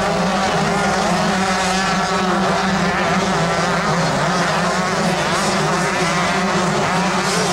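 Motocross motorcycles, including a Kawasaki, racing at the 1986 Southwick AMA National, a loud, steady, blended engine drone with rising and falling revs from several bikes throughout.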